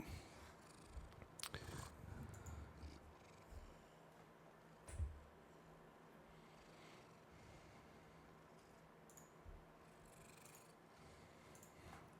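A cat purrs close to the microphone, a soft low steady rumble running quietly throughout, with a few faint rustles and brief bumps scattered over it.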